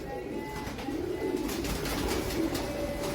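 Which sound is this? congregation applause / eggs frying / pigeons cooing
pigeons cooing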